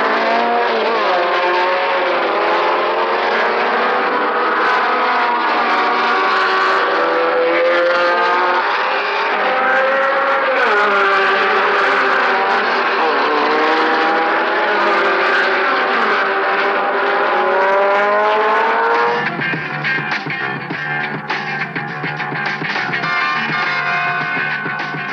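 Renault Gordini R8 and R12 racing cars from 1970 roar around a track, a loud, sustained engine howl with revs rising and falling as the cars pass close by.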